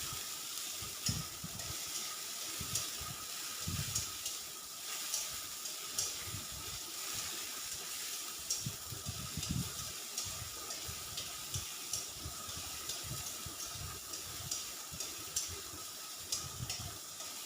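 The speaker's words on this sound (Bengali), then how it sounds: "এবার আমি ভেজে নিচ্ছি বরবটিটা।" Yardlong beans fry in hot oil for sukto with a steady, soft sizzle. Scraping and clinking from stirring in the pan come in irregular beats over the sizzle, with no talking.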